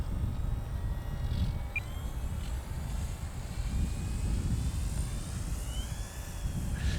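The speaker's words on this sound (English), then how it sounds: "So, Will, if you really get aggressive with it with throttle, let's try it with flaps." E-flite Turbo Timber RC bush plane flying with flaps deployed, its electric motor giving a steady, moderately distant drone with slight rises in pitch as throttle changes, outdoors with no talking.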